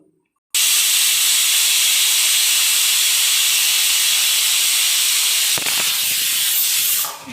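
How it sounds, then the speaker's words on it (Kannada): A pressure cooker on a stove lets out a single long, loud, steady whistle of venting steam that starts abruptly and holds for several seconds, faltering slightly near the end. "ನೋಡಿ ಸ್ನೇಹಿತರೆ ಒಂದು ಈಸಿಲ್ ಬಂತು"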